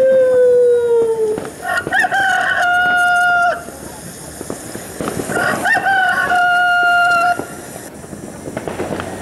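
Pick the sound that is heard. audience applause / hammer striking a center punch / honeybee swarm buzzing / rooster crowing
rooster crowing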